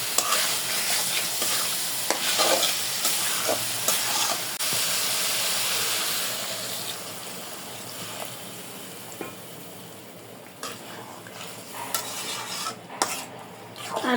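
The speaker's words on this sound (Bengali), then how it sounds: "ভেজে রাখা লতিগুলো দিয়ে দিলাম। মশলার সাথে মিশিয়ে পরে সিদ্ধ করার জন্য ঝোলের পানি দিয়ে দেবো।" Fried taro stolons stirred into spices in a hot pan, loud sizzling and hissing with repeated scraping stirs and clinks of a utensil against the pan, easing to a softer simmer toward the end.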